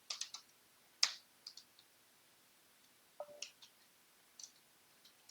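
Typing on a computer keyboard, quiet and close, with short bursts of light clicks and a few louder single keystrokes separated by pauses.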